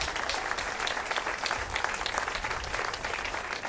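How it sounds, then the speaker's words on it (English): An audience at a Fulton Mall press conference in Fresno applauds, dense steady clapping from many hands sustained throughout at moderate loudness. "Let's give them a round of applause."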